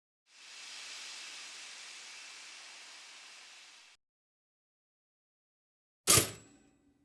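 Steam rising while vegetables cook, a soft even hiss that swells in, holds for a few seconds and fades out, followed after a pause by a single sharp clack.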